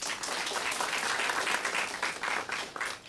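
A conference audience gives a speaker a sustained round of applause, dense and even throughout, with many hands clapping at once in a large hall.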